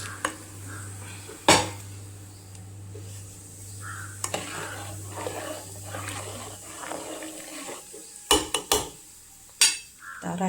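Sago pearls poured into a pot of boiling salted water and stirred with a spoon, soft scraping and clinks under a low hum, with a few sharp metallic knocks against the pot.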